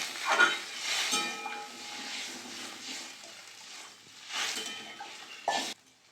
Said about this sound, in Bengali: ভালো করে মশলার সাথে আলুটা আর ওলকপিটা কষিয়ে নেব।